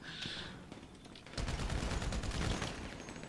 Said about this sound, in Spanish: la arma tiene como 200 balas, yo disparo una y recargo